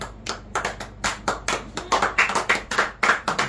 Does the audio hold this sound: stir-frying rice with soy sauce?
no